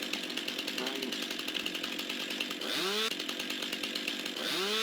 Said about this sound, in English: all I really have is this chainsaw to cut the entire tree with